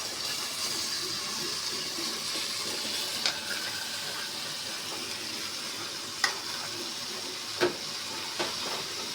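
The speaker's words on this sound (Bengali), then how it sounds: "আর এই যে কাঁঠালগুলো আমি সিদ্ধ করে নিয়েছি, এখন আমি দিয়ে দেবো।" Boiled green jackfruit is tossed into spices frying in oil and stirred, giving a steady close sizzle with a few sharp spoon knocks against the pan.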